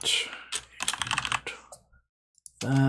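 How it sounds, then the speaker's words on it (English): Rapid, uneven typing on a computer keyboard during a Unity game-development session, with clustered keystroke bursts, a short pause near the end, then more clicks, fairly close and clear with no talking. "just typing that in there to filter, click, shift click, and then drag that over."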